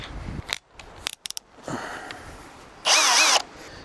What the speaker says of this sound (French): on va faire un perçage dans la tranche de ce petit tasseau là